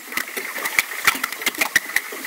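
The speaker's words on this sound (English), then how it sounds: "Man made sound of a boat motor." A boat motor heard underwater in Lake Champlain chugs with rapid irregular knocks and a steady whining tone, recorded close and fairly loud.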